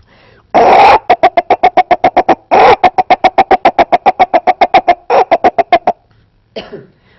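A man imitates a hen's clucking: rapid, evenly spaced staccato clucks in three bursts, each opening with a longer drawn-out call, loud and close, performed on stage.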